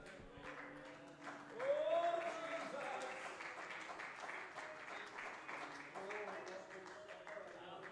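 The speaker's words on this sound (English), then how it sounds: "Would you mind just clapping your hands towards heaven?" A church congregation claps hands together in a steady, fairly soft patter while a speaker's voice continues over the top.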